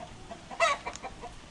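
Fighting cocks clucking on a farm: a single short, sharp cluck burst followed by a couple of softer clucks, fairly faint against a quiet background.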